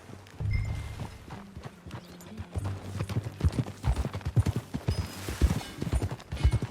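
Steady clip-clop of horse hooves at a trot in the video game Red Dead Redemption 2, close and rhythmic, growing quicker and louder toward the end.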